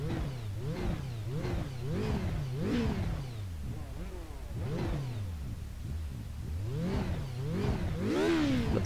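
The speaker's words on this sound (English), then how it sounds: "Love the sound of this engine." A Radical race car engine in the iRacing sim at Road America revs up and down in repeated rising and falling sweeps, loud and close, with quick gear changes and a sharper burst near the end.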